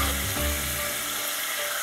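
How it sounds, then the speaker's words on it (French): Meat sizzles in olive oil with garlic as tomato coulis goes in, a close steady hiss with a brief low splash at the start. "Faites revenir pendant quelques secondes et ajoutez le coulis de tomates"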